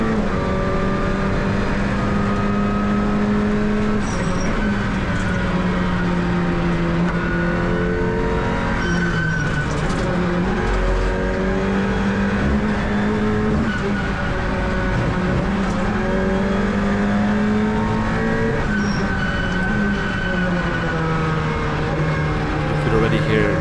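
An Alpine A110 Cup race car at the Nogaro circuit, heard from onboard, revs hard and steadily, its engine tone climbing and dropping through the gears and bouncing off the rev limiter in a loud, continuous drone.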